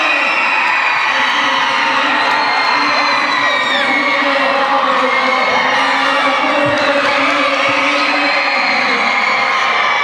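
A crowd at a BMX bike show cheers and screams nonstop, shrill whoops and children's shouts layered into a loud, sustained roar with voices yelling over one another.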